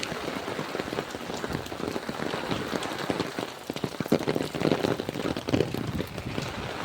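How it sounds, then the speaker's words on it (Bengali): Heavy monsoon rain pouring down at Dankuni railway station in the morning, a dense steady roar of drops on surfaces that swells louder in the second half, with no talk. "এখন আরও জোরে বৃষ্টি এসে গেছে আরও জোরে মুসলধারায় বৃষ্টি পড়ছে"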